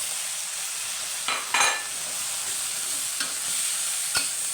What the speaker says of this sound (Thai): คลุกเคล้าให้เข้ากันเลยครับ